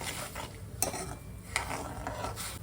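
Sesame seeds and salt being stirred in a pan, a continuous dry scraping and rustle with a few sharp utensil clinks against the metal.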